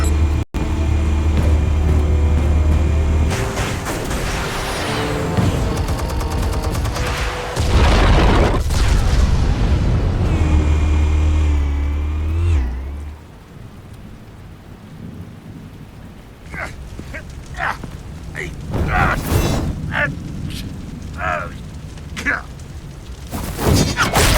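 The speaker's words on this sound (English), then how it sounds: "Explosives armed. Fire when ready." Explosives go off in Batman: The Telltale Series with heavy booming detonations and a rumbling, thunder-like roar that fades into scattered debris and crackling, with voices speaking through parts of it.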